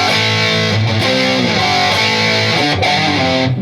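Distorted electric guitar playing a filler riff, a quick run of hammered, pulled and sliding notes over a thick sustained drone, loud and close throughout with no talking.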